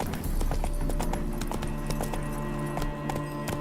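Hooves of Roach, Geralt's horse in The Witcher 3, clip-clop steadily and close in a continuous rhythmic trot, with a low game ambience bed and occasional sharper hoof strikes throughout.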